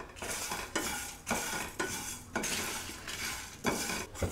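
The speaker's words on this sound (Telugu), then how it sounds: "గసగసాలు వేస్తున్నానండి, లైట్గా ఫ్రై చేసుకోవాలి" Poppy seeds lightly frying in a pan, with a dense dry hiss and rhythmic scraping strokes of a metal spatula against the pan every half second or so, close and without voices.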